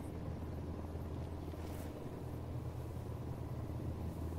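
Drone in the video game Ghost Recon Wildlands, a steady whirring rotor drone with a low engine rumble, continuous and even throughout.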